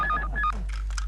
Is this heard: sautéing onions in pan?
no